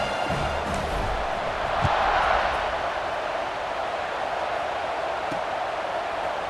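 Stadium crowd in the College Football 26 video game cheers at kickoff, a steady, dense roar that swells briefly in the middle and then holds at a constant level throughout.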